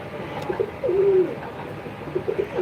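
Pigeons in a loft, several brooding eggs, give a few low, clear coos close by, one longer drawn-out coo in the middle and shorter ones before and after, with no talking.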